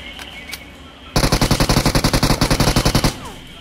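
Gunfire in the mobile game BGMI: a sustained rapid automatic burst of about twenty evenly spaced loud shots lasting around two seconds, preceded by a couple of quieter single shots.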